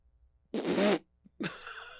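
A person imitates a fart with the mouth: a loud half-second buzzing blurt, a short gap with a tiny pop, then a second, longer sputtering attempt that trails off, with no talking.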